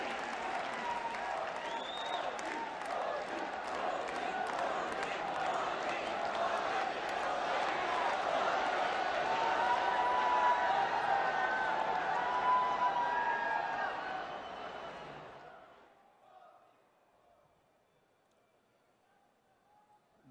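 Sustained crowd applause greeting PM Narendra Modi at a public event in Kutch, Gujarat, loud and dense for about fifteen seconds before fading out to near silence.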